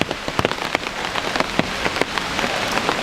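Steady rain patters on a hard surface along mountain steps among trees in Keelung, Taiwan, with scattered louder drips breaking through the constant wash of drops, close by and without voices.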